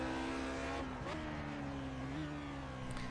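Lotus 49 race car drifting around a track in iRacing, its engine droning steadily close up with shifting pitch, running continuously without any talk.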